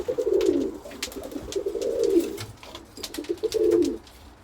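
Pigeons coo nearby in three soft, rolling phrases spaced a second or so apart, with faint clicks and rustles in between.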